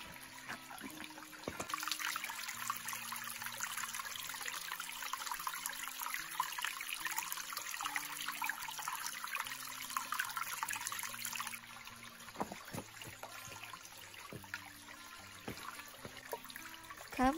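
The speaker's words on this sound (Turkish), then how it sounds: "Küçük bir şelale buldum." A small forest waterfall trickles and splashes steadily, a close, continuous broadband rush of running water that eases slightly partway through, with no voices.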